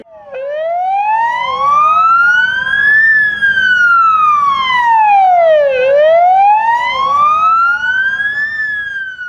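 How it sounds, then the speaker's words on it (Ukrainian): A loud ambulance siren wails continuously at a funeral, rising and falling in long sweeping cycles, close by with no voices. "працівники швидкої в востаннє вімкнули для нього сирени автівок."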